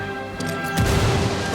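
A frag grenade explodes in the Ghost Recon video game: a sharp, loud crashing burst hits partway through and leaves a rumbling tail after a quieter lead-in.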